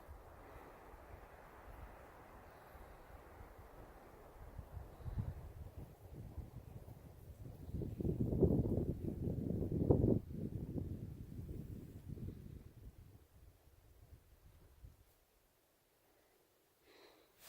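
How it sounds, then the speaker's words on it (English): Wind moving through pine trees on the Spruce Springs Trail near Red Canyon Campground in New Mexico's Manzano Mountains, a soft steady rush that swells into stronger gusts midway and then dies down to near silence. "the only thing you can hear is the wind in the trees"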